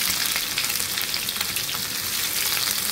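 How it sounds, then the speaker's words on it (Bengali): Whole cumin seeds, garlic and chopped onion hit hot oil in a pan, giving a loud, steady, close sizzle with no talk over it. "প্যানে তেল দিয়ে দিছি, তেল গরম হয়ে গেছে। দিলাম গোটা জিরা, রসুন, পেঁয়াজ কুচি"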